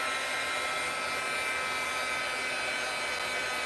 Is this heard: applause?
no